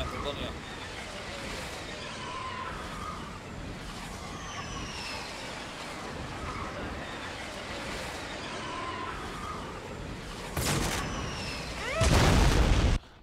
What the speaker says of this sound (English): Guided rockets, honey.